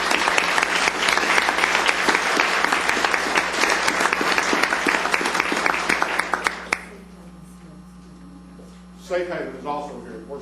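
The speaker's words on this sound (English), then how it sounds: "Let's give all these folks a big round of applause." Round of applause for charity representatives at a county commissioners court meeting, sustained room-filling clapping for about seven seconds that stops abruptly, followed by a low hum and then brief talk.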